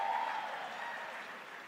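Audience applause during a live product demo, a short, steady wash of clapping at a fairly low level that holds evenly throughout with no talk over it.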